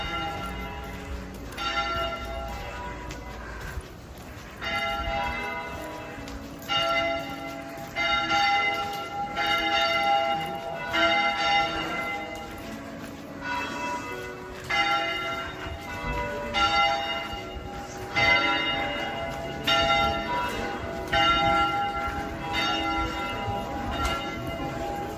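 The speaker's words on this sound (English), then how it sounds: "the bells of Viana began tolling for lunchtime" Church bells in Viana toll for lunchtime on the Camino Frances, ringing in a steady repeated pattern of clear strikes that carry moderately loud over faint outdoor ambience.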